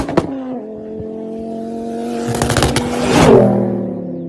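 Revo Stage 2 tuned Ford Focus ST225 driving, its engine droning steadily close up and then rising in pitch as it accelerates near the end.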